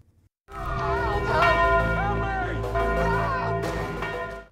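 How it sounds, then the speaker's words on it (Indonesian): A large bell rings loudly after a brief silence, its strikes overlapping into a sustained, resonant clang that lingers throughout. "Berhasil membunyikan lonceng"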